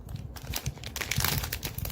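A plastic biscuit packet crinkles and crackles as it is torn open, a close, continuous rustle of sharp irregular snaps lasting two seconds, with no talk.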